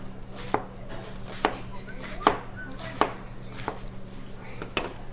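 Knife cutting thin slices of cabbage on a board: a string of sharp, evenly spaced chops about one per second, close and distinct over a low steady hum.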